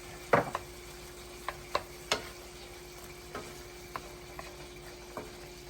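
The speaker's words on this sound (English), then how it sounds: "let's go ahead and add that butter to it" Pork chops with peppers and olives simmer in butter in a pan, a soft steady sizzle under a run of sharp utensil clacks and scrapes, one louder scrape near the start and several lighter taps spread through, no voices.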